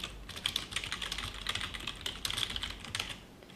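Quick, light keystrokes on a computer keyboard as a project name is entered, a quiet, uneven patter of clicks in short bursts, alone without any talking.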